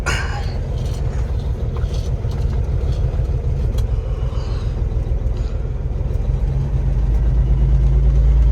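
A truck's diesel engine runs steadily with a deep, low rumble that grows heavier and louder near the end as the truck is pulled onto a pad.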